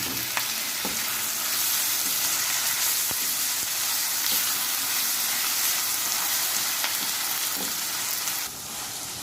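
Chicken cooked with masala for Patiala chicken sizzles and fries steadily in a pan, a bright continuous crackle with occasional scraping stirs, close and loud, no talking.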